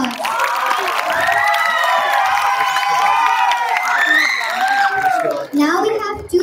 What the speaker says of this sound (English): Please give our talented singers a big round of applause.